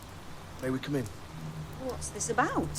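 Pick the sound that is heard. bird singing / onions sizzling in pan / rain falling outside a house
rain falling outside a house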